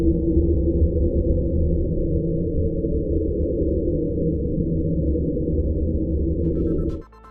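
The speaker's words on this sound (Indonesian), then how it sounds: "NOAA menangkap slowdown yang diteorikan sebagai lapisan es besar di Antartika yang bergerak di" NOAA underwater hydrophone recording known as Slow Down, thought to be a large Antarctic ice sheet moving over land: a loud, dense low rumbling drone held steadily for about seven seconds, then cutting off abruptly.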